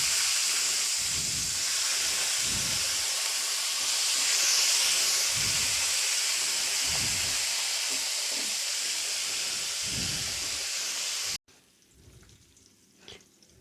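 Whole onions sautéing in oil with mustard seeds and cumin, a loud continuous hiss and sizzle with faint low clatters beneath, cutting off suddenly to near quiet with a few soft knocks.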